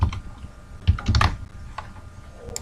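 Typing on a computer keyboard while entering text into a PowerPoint slide, with irregular clusters of close, quiet key clicks and short pauses between bursts, no voices.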